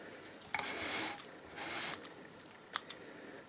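Scissors snip through a crêpe in a few quiet, close cuts, with soft rustling between them and a sharp click near the end.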